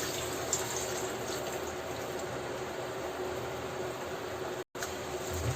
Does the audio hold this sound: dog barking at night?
no